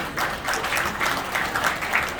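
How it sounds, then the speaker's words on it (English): Steady applause from a dinner audience at a Cypriot federation banquet, a dense wash of many hands clapping continuously throughout at a moderate, even level. "Give him a round of applause."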